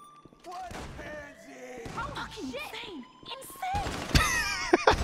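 Gunfire and impacts in the video game GTA 5 during a casino heist, scattered shots and thuds mixed with game sounds under near-constant excited talk from players.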